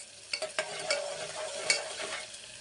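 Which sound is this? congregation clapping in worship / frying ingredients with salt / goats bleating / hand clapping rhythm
frying ingredients with salt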